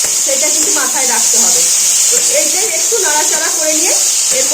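Ground white and black mustard paste frying in hot oil for shukto, a steady loud sizzle and hiss running throughout, with a voice talking over it.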